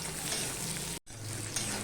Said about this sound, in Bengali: দিয়ে এটা আমি ভেজে নেবো তাতে একটুখানি নুন দিয়ে দিলাম যাতে পেঁয়াজটা ভালো করে তাড়াতাড়ি ভাজা হয়ে যায়